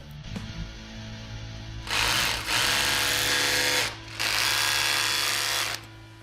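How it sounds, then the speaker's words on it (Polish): An electric drill with a 6 mm bit bores two holes in a garage wall for wall plugs, whining in two sustained bursts of about two seconds each, with a brief pause between them, loud and close. "wiertarką z wiertłem o średnicy 6 mm wykonaliśmy dwa otwory pod kołki rozporowe"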